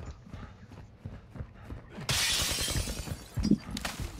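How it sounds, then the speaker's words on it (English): Glass shatters in Call of Duty: Modern Warfare II, a sudden bright crash that follows a stretch of low footsteps and game noise and then rings on for about two seconds. "Glass broke across the street."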